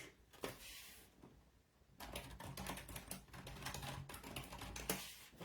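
Someone types a message on a computer keyboard. A few soft taps give way, after a brief lull, to a fast, steady run of close, crisp clicking keystrokes.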